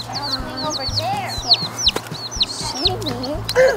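Several chickens and baby chicks cluck and chirp nearby in a yard in short, repeated bursts, with higher-pitched calls overlapping the low clucks.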